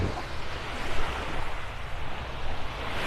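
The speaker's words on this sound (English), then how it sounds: "Always got this wave action right here, just to the north of the La Playa" Steady rushing wash of Gulf waves breaking over a sandbar at Vanderbilt Beach, North Naples, a broad continuous roar with gentle swells, no voices.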